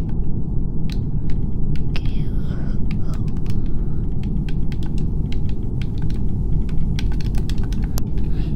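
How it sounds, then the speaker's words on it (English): Typing on a computer keyboard, quick irregular key clicks scattered across several seconds over a steady low hum and rumble, fairly close, with faint voices now and then. "I'll just type it in chat."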